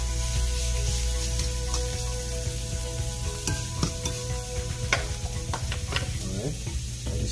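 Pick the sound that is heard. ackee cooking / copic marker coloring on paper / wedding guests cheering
ackee cooking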